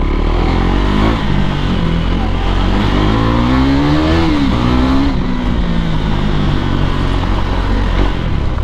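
A KTM Duke 390 motorcycle revs hard during street racing, its engine climbing and falling in pitch over a steady loud roar, close and continuous with no talk.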